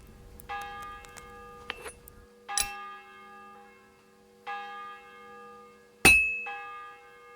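Hammering metal at a blacksmith's anvil in Kingdom Come: Deliverance II, a few ringing, bell-like clangs spaced irregularly apart, each leaving a long metallic decay, with the final strike the loudest.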